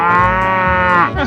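In a 3D animal slide game, a cow gives one long, loud, close moo that holds steady before trailing off, with nothing else over it.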